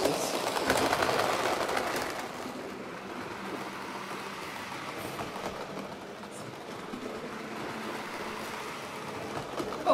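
A digitized model electric locomotive, a narrow-gauge engine, runs along a model railway track with a steady, faint rolling whir and light rail clatter that stays even throughout, with no talking.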